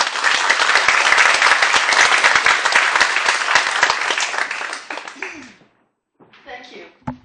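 Audience applause welcoming a speaker, a loud, dense burst of clapping that goes on for about five seconds and then fades, with a short bit of talk after it dies away.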